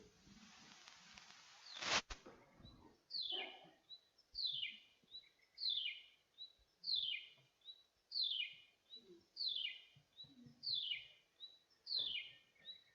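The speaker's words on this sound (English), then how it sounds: "the chirruping wedgebill." A chirruping wedgebill calls in the open, repeating a squeaky, wheel-like two-part phrase about nine times at a steady rhythm, moderately close and alone, after one sharp click near the start.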